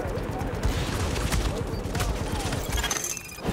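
In the video game The Division, bursts of gunfire crackle in a rapid, dense fusillade close by and keep going, mixed with shattering and mechanical clatter, while a voice talks over the firefight.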